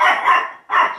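A dog, likely an irritable chihuahua, barks loudly and close in two sharp bursts separated by a brief gap, with no talking.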